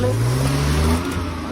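Car engine revving loudly during a race, a steady close mid-pitched drone with a slowly rising tone, dominating throughout.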